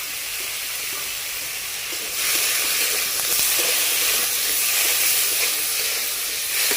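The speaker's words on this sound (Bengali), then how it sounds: "লাউ চপাগুলোকেও ভেজে নেব। দিয়ে দিব অল্প পরিমাণ লবণ, অল্প পরিমাণ হলুদ।" Bottle gourd peels frying in hot oil with a little salt and turmeric give a steady, close hiss of sizzling that grows louder and denser partway through and keeps going with no talk.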